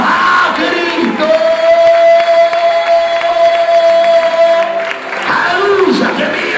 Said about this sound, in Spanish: ¿Cuánto le aplaude a los que se humillan por amor a Cristo?